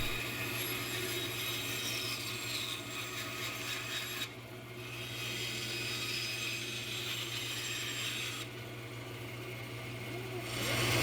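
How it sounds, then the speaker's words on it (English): A steady bandsaw hum runs throughout beneath a continuous rasping cut through wood, with brief changes in texture as the blade works. "we use a bandsaw to carefully exhume the limbs"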